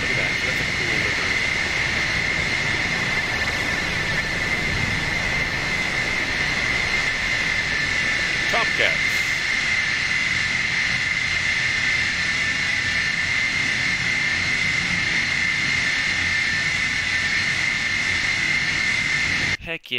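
Continuous loud roar and whine of an F-14 jet engine in the DCS flight simulator, a steady high tone over broadband rumble without a break.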